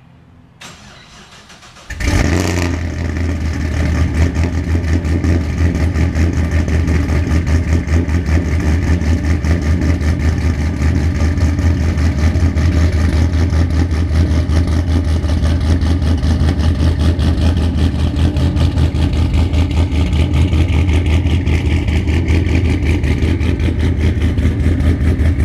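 After a near-silent opening, a 2004–2006 Pontiac GTO with a budget drag-racing setup cranks and catches, then settles into a loud, steady, rumbling idle right up close for the remaining twenty-odd seconds, with no voices.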